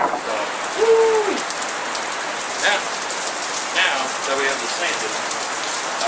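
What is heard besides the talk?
rain pouring down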